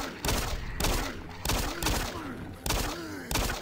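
Gunfire in the Doom 3 video game comes as repeated loud, close bursts, roughly six shots at regular intervals with a reverberant tail after each.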